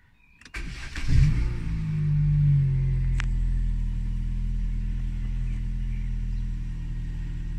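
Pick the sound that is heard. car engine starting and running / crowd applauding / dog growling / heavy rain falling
car engine starting and running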